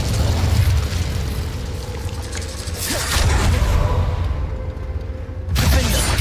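Incendio fire spell cast in the Hogwarts Legacy video game: loud roaring, crackling bursts of magical fire with booming whooshes, a sustained rumbling blast, then a short pause before another surge near the end.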